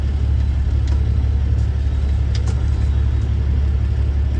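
Semi truck engine rumbling steadily up close, a loud continuous low drone with slight revving while the rig inches through a tight hairpin turn toward a shipper's dock.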